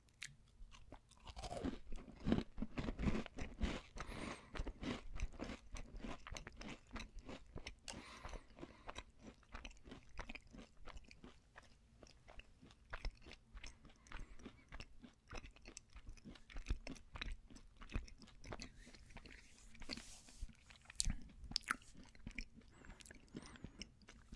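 Gluten-free cookies with almonds and chocolate chips are bitten and chewed very close to the microphone: a long run of crisp crunches and steady, moist chewing, quiet and without talk.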